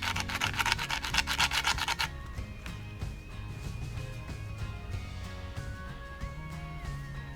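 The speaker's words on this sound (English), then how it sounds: "I'm just gonna file that down with the sandpaper, and I'm making sure that I get it nice and smooth" Sandpaper rubs the cut end of copper earring wire smooth, fast rasping strokes for the first two seconds, then quieter, slower rubbing continues close by with no talk.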